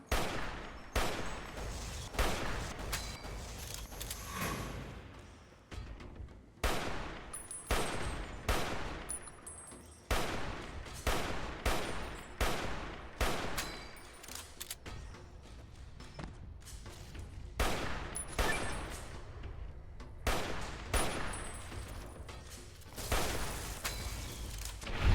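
An alien blaster fires repeated shots at cazadors in Fallout: New Vegas, with sharp bursts recurring in irregular clusters across a long stretch of combat, moderately loud, with thuds and impacts between, no talk.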